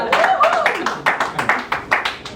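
Comedy festival crowd gives a short applause break at a stand-up set, a brief burst of clapping with cheers over a murmur of voices.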